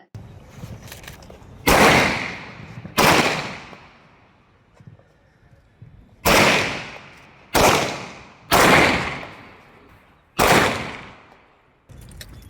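Gunfire from police firearms training at a range: six sharp, loud single shots spaced irregularly a second or two apart, each with a short ringing decay, over faint outdoor background.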